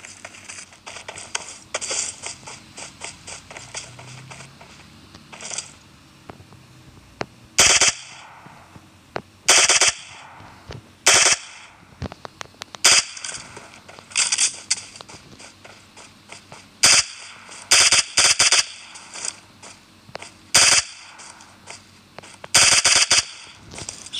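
Gunfire in the mobile battle royale game PUBG Mobile: repeated sharp bursts of shots and short automatic volleys spaced irregularly, mixed with clicking weapon mechanisms over a quiet background.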